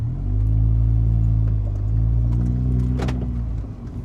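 A cheap supercharged Mini on a test drive, its engine a loud, steady low rumble with a brief rattle near the end as it eases off.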